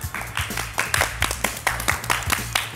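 Sharp, distinct hand claps ring out one after another in an uneven rhythm, about a dozen in under three seconds, close and fairly loud over a low background hum.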